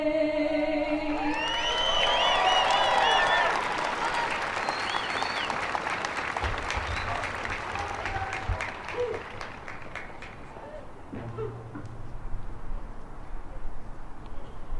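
Outdoor crowd applauding after a national anthem performance at a Wreaths Across America ceremony at Houston National Cemetery, steady clapping that swells then gradually thins out, with the singer's final held notes and a voice heard at the start.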